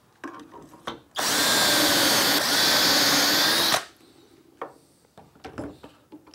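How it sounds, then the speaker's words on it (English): A power drill bores dowel holes into a wooden workpiece clamped in a Dowelmax jig, one steady, loud, high-pitched whir lasting about two and a half seconds, with quieter handling clicks before and after. "And in this case, we'll do four dowel holes"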